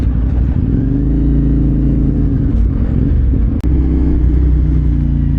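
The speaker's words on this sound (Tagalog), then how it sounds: "Dami palang dito mga tricycle tsaka kotse din dito sa daan na to." Tricycles and cars passing on a flooded-then-drained road, with a loud steady engine rumble close by, including a CFMOTO 450SR motorcycle, and a sharp click midway.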